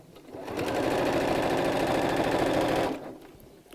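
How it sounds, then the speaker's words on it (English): A sewing machine stitches a skirt seam in one steady, fast, even run of motor whir and needle clatter lasting about two and a half seconds, close and alone before it stops. "and we'll start to sew"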